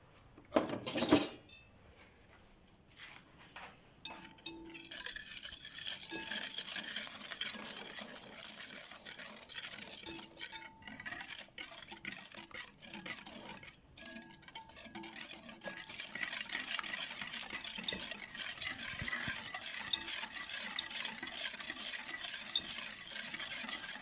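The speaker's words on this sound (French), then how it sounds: "Je vais le verser dans mon salade avec les œufs. Je vais mélanger." Sugar being whisked into eggs in a bowl for crêpe batter, a few loud knocks and clinks at first, then a steady brisk scraping and tapping of the whisk against the bowl that runs on continuously.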